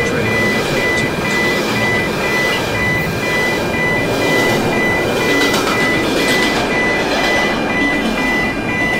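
A train at a station in a cartoon scene, heard as a continuous loud rumbling wash with a steady repeating electronic beeping tone over it.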